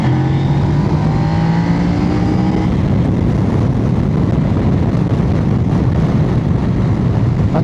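A Kove 800X GT motorcycle accelerates hard, its engine roaring loud and close with a rising pitch for the first few seconds before giving way to heavy, steady wind and engine rumble.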